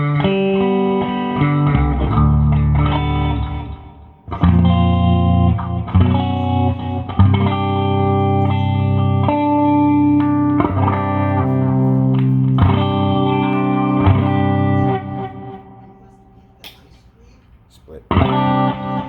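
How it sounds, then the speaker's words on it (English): Electric guitar played through a 2000s Fender Bassman 200 amp set clean, with compressor, delay and reverb, ringing sustained chords and notes loud and close, with a brief quieter gap near the end. "A little delay, a little reverb."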